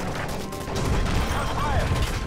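A dense barrage of rapid gunfire and chaotic crashing noise in the video game Call of Duty: Modern Warfare 3, loud and continuous, with shouting voices mixed into the din.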